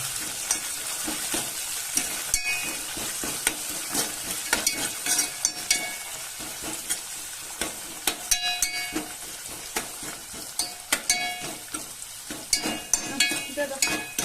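Mint, coriander and curry leaves frying in a pan for a chicken curry, a continuous bright sizzle with frequent crackling pops and occasional spoon scrapes, close and steady without speech.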